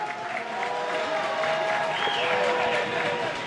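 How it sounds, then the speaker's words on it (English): Applause rises from a stadium crowd at a women's club football match as substituted player Knox leaves the pitch. Steady, dense clapping holds throughout at mid distance, and a commentator's voice carries over it. "That's an applaud for Knox."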